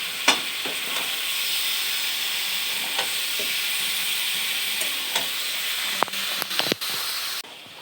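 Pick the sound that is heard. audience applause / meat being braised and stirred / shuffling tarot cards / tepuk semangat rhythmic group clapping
meat being braised and stirred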